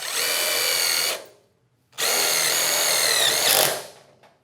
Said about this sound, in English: it's not recommending we set our impact driver up to its top setting, so we'd have to drive our self-tapper in speed 2